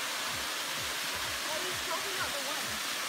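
A modest waterfall in Tasmania pours with a steady, continuous rushing roar, heard close and unbroken throughout, with a voice faintly present.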